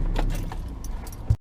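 A bunch of van keys jangles close and loud in a continuous metallic rattle, ending in a sharp clack before cutting to silence.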